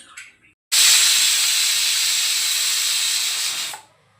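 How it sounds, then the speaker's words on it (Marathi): A pressure cooker cooking chana dal with water lets out one long, loud, steady steam whistle lasting about three seconds, cutting off abruptly after a brief quiet start. "2 ते 3 शिट्ट्या आपण याच्यावर होऊ देणार आहोत।"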